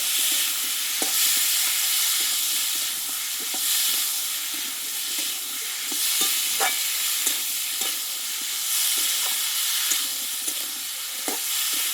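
Marinated peas and potatoes sautéed in a pan for Bengali ghugni, a steady close hiss of frying with frequent scraping clicks of a spoon stirring, no voices.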